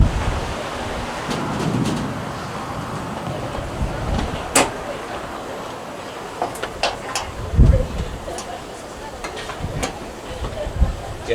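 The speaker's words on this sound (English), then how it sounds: "these help protect you from the wind in the windy city" Wind gusting outdoors around a rolling kitchen in Chicago while water boils on the stove, a steady broadband rush with low buffeting swells and a few brief knocks, moderately loud throughout.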